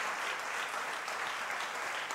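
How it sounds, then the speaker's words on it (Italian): An audience applauds volunteers at a live interview event, a steady, dense burst of clapping holding evenly through the whole moment with no voices over it. "Quindi prendi l'applauso anche per tutti i tuoi colleghi."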